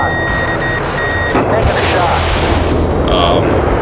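A Mirage 2000 jet fires a shot in the Fighters Anthology flight combat game: a loud, rough burst of blast noise over steady engine roar and thin electronic tones. A voice may be heard.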